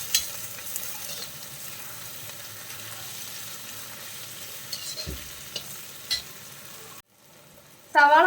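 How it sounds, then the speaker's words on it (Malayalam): Chopped onions sautéing with broccoli in a hot pan, a continuous close sizzle broken by stirring scrapes, a brief near-silent pause, then a louder burst of frying at the end, with no voices. "ഇനി ഇത് 2 സവാള അരിഞ്ഞതും കൂടി നമുക്ക് ഇതിലേക്ക് ചേർത്ത് കൊടുക്കാം. അതും കൂടി ചേർത്തിട്ടൊന്ന് വഴറ്റി കൊടുക്കാം."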